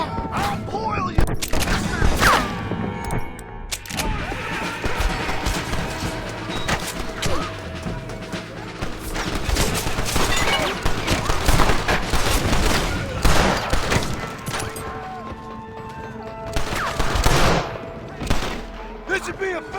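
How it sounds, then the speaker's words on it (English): Shootout gunfire in the Western video game Red Dead Redemption, with rapid overlapping gunshots, bursts and booms running continuously and loudly throughout, mixed with shouting voices and game music. "Open fire!"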